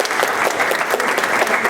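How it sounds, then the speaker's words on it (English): A large audience of students claps for career center staff at a campus assessment session, producing dense, steady, fairly loud applause that fills the short moment with no voices over it. "So I think they deserve a great big round of applause"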